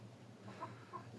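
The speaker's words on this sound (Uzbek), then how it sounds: "mana siz so'rayotgan tovuqlar" A few hens give two soft, short clucks, quiet and slightly distant, against a faint low background hum.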